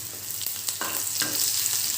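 Garlic and a pinch of asafoetida frying in hot oil as a tempering for a mint, coriander and curry leaf pickle; a continuous bright sizzle with a few sharp stirring scrapes, close and unaccompanied by speech.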